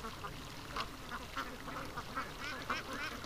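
Backyard ducks quack in short repeated bursts at a modest distance, a scattered chattering rhythm against faint background noise.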